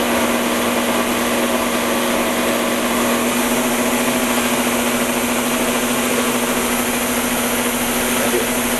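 An electric mixer creams softened butter with packed sugar, a loud, steady motor whine with a constant hum that runs unbroken throughout, and no one speaks.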